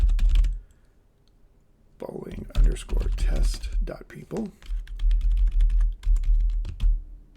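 Quick bursts of clicking keystrokes on a computer keyboard, close and clear, come in short runs between stretches of someone speaking.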